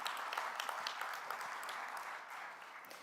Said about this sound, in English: Yes, please let's give them a round of applause.